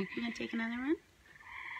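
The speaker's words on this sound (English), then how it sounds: "I hope you all can hear the tree frogs." Tree frogs call outdoors, their croaking trills blending with a person speaking briefly at the start, then continuing as a softer steady chorus in the background.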